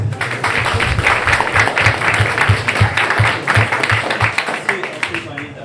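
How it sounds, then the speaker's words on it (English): Audience at a live debate event claps for a speaker being introduced, a steady round of applause with rhythmic individual claps standing out, fading toward the end, with voices mixed in underneath. "Round of applause for Dylan."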